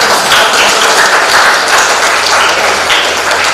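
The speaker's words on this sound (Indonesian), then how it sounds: "Tepuk tangan dulu untuk penanya." A classroom audience applauds a questioner after a student presentation, a loud, dense and steady burst of clapping from many hands filling the whole stretch.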